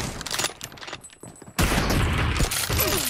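Gunfire rings out in Battlegrounds Mobile India, with scattered sharp shots early, a short lull, then a sustained loud burst of firing that carries to the end.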